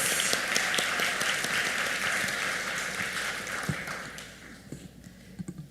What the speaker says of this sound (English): And a final round of applause, please.